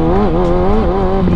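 A sport bike engine revs with the clutch pulled in, a close, loud, buzzing drone whose pitch wavers briefly up and down over a second or so.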